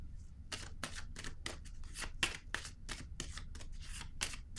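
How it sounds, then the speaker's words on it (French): A tarot deck being handled, with a rapid series of about a dozen crisp papery snaps and flicks of cards riffling close by, evenly spaced, alone without talk. "Je vais piger une autre carte ici."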